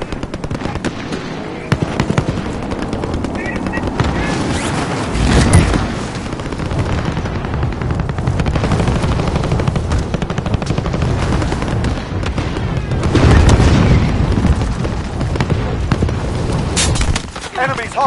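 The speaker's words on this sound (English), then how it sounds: "I'm taking fire!" Video game battle with rapid gunfire and heavy explosions booming throughout, loud and dense, with voices shouting over the combat.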